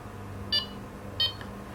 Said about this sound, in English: it cycles through the beep speeds